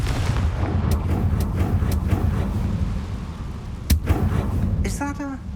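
A Confringo explosion spell cast in Hogwarts Legacy, heard as a sharp blast over a dense, continuous rumble, with repeated cracking impacts and a bright burst near the end.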